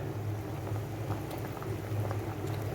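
Fish simmering in a pot of water at a hard, rolling boil, a steady close bubbling and churning with no talking over it.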